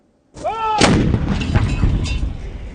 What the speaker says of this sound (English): Artillery rounds walloped the side of a mountain in eastern Afghanistan